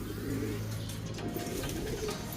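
Racing pigeons coo steadily in a loft, soft rolling coos layered over each other at close range, with faint background hum and no talk.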